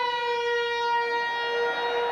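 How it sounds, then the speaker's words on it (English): Full-time siren sounding at a 1991 Wales v Papua New Guinea rugby league match, a steady loud harmonic wail held for about two seconds over faint crowd noise. "There's the full-time siren."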